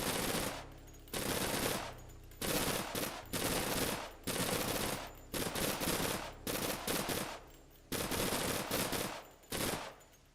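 Automatic gunfire from a low-recoil gun in the video game Persist Online, loud rapid bursts separated by short pauses, about a dozen strings of shots over several seconds, no talking.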